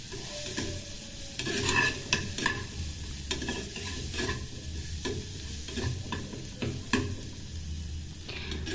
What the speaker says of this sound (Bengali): মশলাটা কষিয়ে নিচ্ছি আমি।